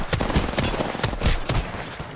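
Rapid automatic gunfire from an Apex Legends firefight rattles in quick repeated shots, fairly close and loud, filling the short moment without talk.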